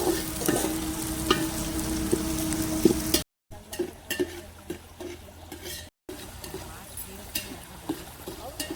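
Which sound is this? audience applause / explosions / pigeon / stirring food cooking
stirring food cooking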